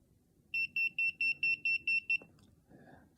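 Electromagnetic radiation meter beeping with its sound on: eight sharp, high-pitched electronic beeps in a quick, even rhythm, close and clear over a quiet room.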